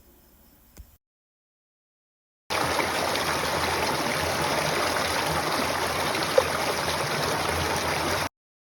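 Stream flowing beside a hiking trail near Donnell Pond, Maine, heard as a steady, close rushing wash of water that starts after a short silence and continues evenly to the end.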